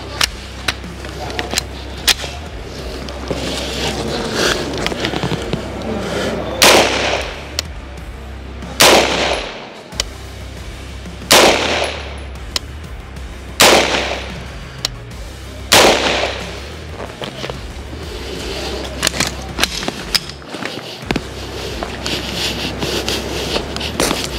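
A UTAS UT9-M Mini shotgun fires about six loud, sharp shots spaced a few seconds apart on a range, each with a quick echo, while people talk between the shots.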